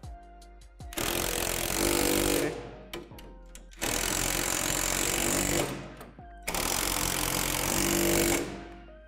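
A power tool tightening the hardware on a basketball backboard bracket, three loud rattling bursts of hammering, each a couple of seconds long, separated by brief quiet pauses and close to the listener.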